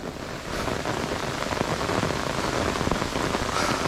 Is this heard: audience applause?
no